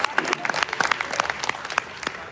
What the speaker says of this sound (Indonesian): Boleh kasih tepuk tangan sekali lagi buat.